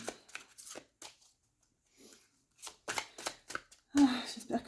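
Oracle cards riffle and slap as a French-speaking woman shuffles the deck and draws one or two cards, in short crisp bursts broken by pauses and her voice.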